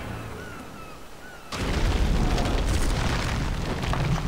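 Fortress bombardment in the Battle for Middle-earth II strategy game: after a quiet start, a sudden loud wall of booming explosions hits and keeps rumbling continuously, dense and close.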